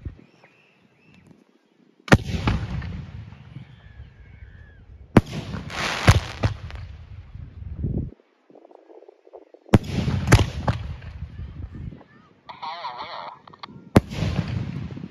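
Hand-lit fireworks open a show, with several loud sharp bursts and crackling volleys at intervals, some close and booming, with quieter gaps and a person talking faintly in between.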